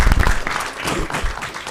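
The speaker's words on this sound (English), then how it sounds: "A round of applause for our amazing panelists for being candid" An audience applauds panelists at an AI town hall event in Kenya, a dense, close burst of clapping that stays steady throughout with no clear talk.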